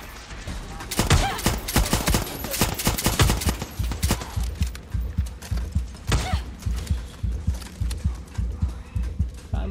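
Rapid shotgun blasts in Far Cry 6, a burst of sharp, loud gunfire followed by a steady rhythmic run of repeated shots, close and dense throughout.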